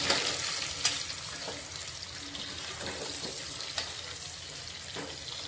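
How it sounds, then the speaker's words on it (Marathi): Chopped onion frying in a pan for a paya pulao gives a soft, steady sizzle with faint stirring clicks. It stays quiet and close, and nobody speaks. "आपण 2 मिनिटं परतवायचा कांदा"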